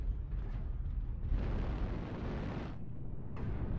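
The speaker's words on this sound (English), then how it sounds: "Almost got killed by friendly fire again." A rumbling in-game explosion from friendly fire roars up and sustains for over a second before fading, with another burst beginning near the end, all over constant low battle noise.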